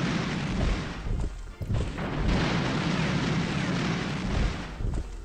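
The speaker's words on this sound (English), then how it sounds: "Some artillery there!" Artillery fire in the World War II strategy game Panzer General 2, heard as a dense, continuous roar of booming blasts with a few sharp dips, loud and close, without talk.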